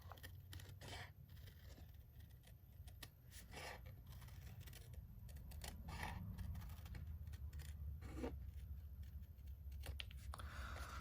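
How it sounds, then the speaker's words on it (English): Paper snips trimming cardstock for a bat treat holder, a series of close, crisp snipping cuts repeating at irregular intervals, quiet and with no talk. "we are going to use our paper snips. We are going to trim"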